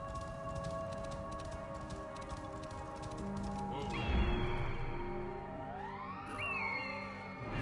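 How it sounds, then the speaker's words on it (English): A horse in the video game Assassin's Creed Origins neighs and whinnies, with hoof clatter over a soft game ambience and music. A sharp whinny rises around the middle and another rises near the end, under someone talking. "That must be the horse the thieves used to escape."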